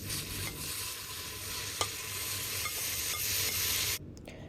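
Tomato sautés in a pan for mutton curry, a steady close sizzle with faint scraping stirs that cuts off abruptly near the end.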